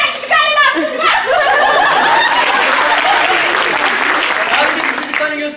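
Applause from a lively group mixed with children's chatter and snickering, loud and continuous throughout, with voices audible at the start and end.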